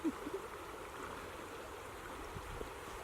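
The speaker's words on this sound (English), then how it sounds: "The river's flowing this way and it swirls back around and flows this way." A river flowing and swirling back on itself in an eddy at Dinosaur National Monument, a steady soft rush of moving water with faint gurgles, heard alone outdoors.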